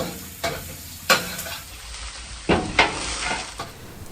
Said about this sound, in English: Stir fry the garlic and ginger in low heat to avoid burning them.